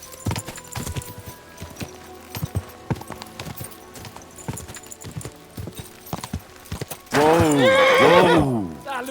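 Hooves clop sparsely and unevenly in Kingdom Come Deliverance II, then a loud, close horse whinnies for about two seconds near the end, with talk around it.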